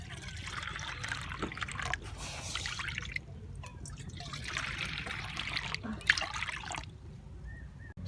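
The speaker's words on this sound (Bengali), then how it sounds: "উনানের মধ্যে একটা কড়া বসিয়ে দেব এইরকমই বাটির দু বাটি কড়ার মধ্যে জল দিয়ে দেবো" Water poured from a bowl into a kadai set on a stove, trickling and splashing in two longer pours with a short pause between, fairly close and moderately loud with low background hum.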